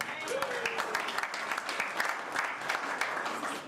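Wedding guests applaud during a best man's speech, a steady wash of clapping hands from a small-to-medium crowd that runs at even strength for several seconds with no voices on top.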